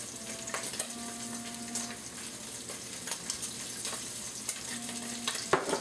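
Garlic fries in a pan with soy sauce, a steady sizzle and crackle running throughout, with occasional stirring scrapes and faint clicks.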